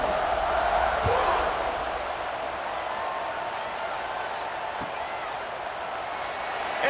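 A large stadium crowd at a Michigan college football kickoff roars as one steady, distant wash of cheering, with a commentator's voice over it.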